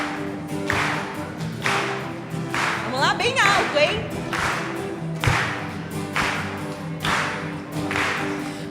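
A church congregation claps along to a Portuguese children's song during a service, steady rhythmic claps over a sung melody and spoken encouragement from a leader.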